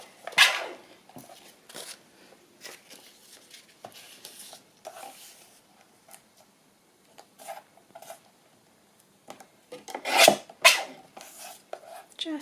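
Paper trimmer slicing through paper while making a Christmas journal envelope flip-down, with a few quick raspy cutting strokes near the start and again around the tenth second, separated by quieter handling rustles, close and alone.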